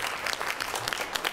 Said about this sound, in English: You don't have to clap for me twice.